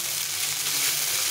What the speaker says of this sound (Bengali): রসুনটাকে ভেজে নিলাম ভালো করে।